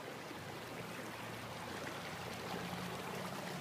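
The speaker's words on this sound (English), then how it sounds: "here's a place where you can see the water flowing over on top of the ice that's on the bottom" Stream water runs steadily over anchor ice lying on the bottom of a creek, a continuous close trickling and burbling wash with no pauses and no voices.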